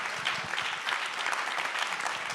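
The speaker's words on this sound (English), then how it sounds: "Give them a round of applause." Audience applause at a community gathering on rescuing children from violence, a steady dense clapping that fills the room at moderate loudness, continuous and alone without speech.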